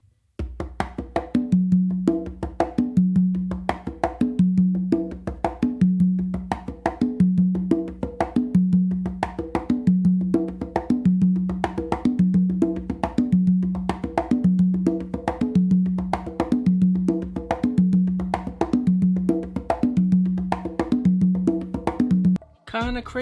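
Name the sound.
songo rhythm on three congas with open tumba tones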